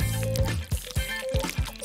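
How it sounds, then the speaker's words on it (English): Nail polish dribbled in a zigzag motion into water makes a quick series of small wet drips and plops, close up and moderately loud, with no speech. "Dribble some into water. Using a zigzag motion."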